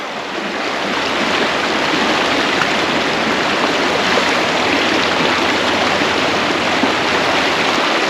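Rural river water flowing over stones, a steady broadband rush, close and loud, with no talking.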